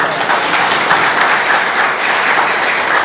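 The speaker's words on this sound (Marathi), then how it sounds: "जोरदार जरा टाळ्या वाजवा" A crowd of party workers at a district rally claps loudly and continuously, a thick, even roar of applause close to the microphone that holds steady throughout.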